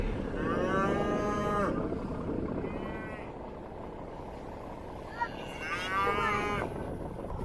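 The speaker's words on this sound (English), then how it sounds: "All these cows are really excited to get some of this hay." Cattle excited at hay feeding on a ranch give several loud, drawn-out moos, two long calls near the start and end with a shorter one between, over steady engine rumble.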